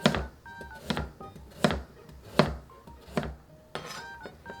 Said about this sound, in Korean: 먼저 당근 4분의 1개 정도를 준비해 주세요. 적당한 두께로 잘라줍니다.